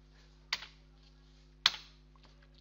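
Two distinct computer mouse clicks about a second apart, then a faint third, crisp and close against a quiet background hum, with no voices.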